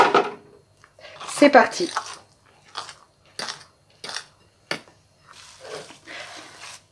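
Vegetarian merguez mixture with cornstarch stirred in a bowl, giving short clinking and scraping bursts in an uneven rhythm, close up, with a voice speaking briefly at the start.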